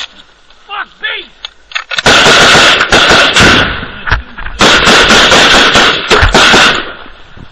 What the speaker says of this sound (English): Hey, cover fire! Get some rounds on there!